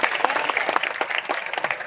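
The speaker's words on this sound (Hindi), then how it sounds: "मैं चाहूंगा एक बार पूरा सदन उनके सम्मान में ताली बजाए।" Audience applause at a Hindi kavi sammelan poetry gathering in Malpura, brisk dense clapping from a full hall, steady and fairly close.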